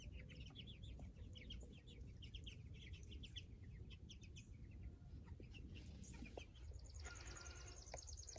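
A flock of fifty month-old Cornish cross meat chickens on a farm clucking and peeping continuously, a busy overlapping chorus close by with no talking.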